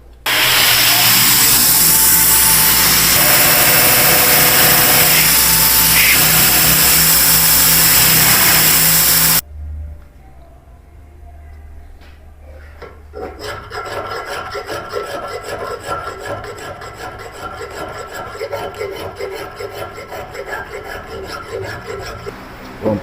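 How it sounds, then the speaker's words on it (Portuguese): A belt sander grinds a knife blade: a loud, harsh abrasive roar for several seconds stops abruptly, then a lighter rasping buzz of sanding continues steadily. "Então agora eu vou para a lixadeira, rebaixar toda essa parte aqui"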